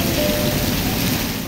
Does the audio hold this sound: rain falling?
yes